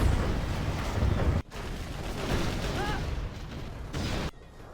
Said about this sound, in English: Bit of a new cannon battle going on.